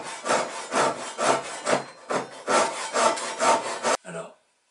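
A fine-bladed Japanese hand saw cuts wood for a toy boat in about eight rhythmic rasping strokes, close and loud, ending abruptly in silence.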